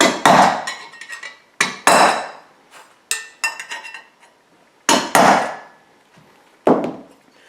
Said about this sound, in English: we're going to take a flathead screwdriver and a hammer